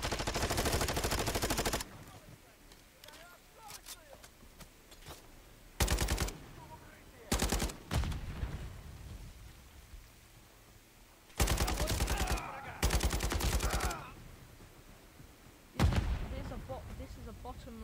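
Gunfire in the video game Call of Duty: Modern Warfare 3 comes in loud, sustained automatic bursts separated by gaps with quieter background sound, and the firing sounds close.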